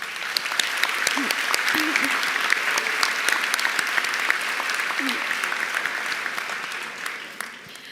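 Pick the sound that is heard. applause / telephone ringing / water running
applause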